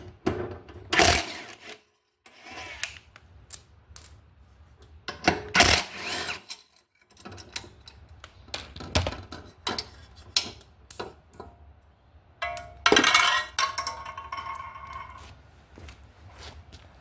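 AEG rattle gun with a 14mm socket removing the blade disc bolts on a Honda HRU196 mower, sounding in short loud rattling bursts separated by pauses, with lighter clicks and handling noises between them.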